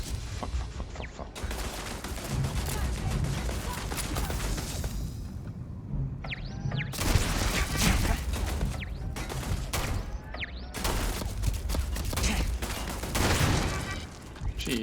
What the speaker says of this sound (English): that took more shots than I should have.